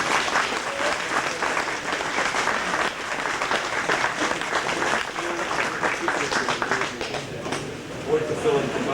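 An airshow crowd gives a warm round of applause to two model aircraft pilots, with dense, sustained clapping that stays loud for the whole stretch.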